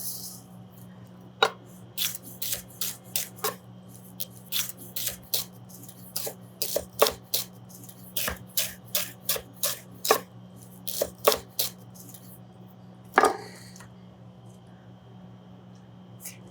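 A knife slices celery on the bias into thin slices on a cutting board, a long run of crisp, close, sharp cuts in irregular bursts over a steady low background hum.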